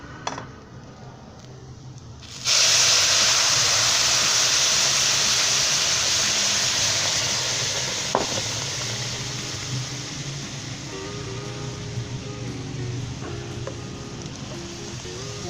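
Hot tadka is poured into Punjabi karhi and bursts into a sudden loud sizzle, a bright steady hiss that fades slowly over many seconds, with faint clinks of utensils.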